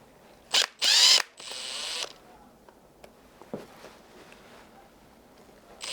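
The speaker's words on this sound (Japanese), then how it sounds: "裏側でビス止めの作業に入ります" Power driver setting screws on the underside of a bonsai pot while repotting a juniper, two short loud whirring bursts and a longer one, then faint handling clicks, no talking.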